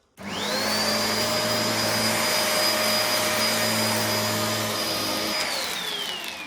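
Kenmore Progressive DU2001 dual-motor vacuum cleaner switching on and running: a quick spin-up into a loud, steady high-pitched whine over a motor hum, then the pitch starts to fall as it winds down near the end.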